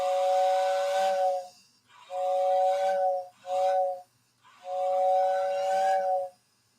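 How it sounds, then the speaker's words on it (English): Dual-chime air whistle on a model train layout sounds four loud, sustained harmonic blasts, the third one short, with clean breaks between them and no talking. "Yeah, the air whistles are great."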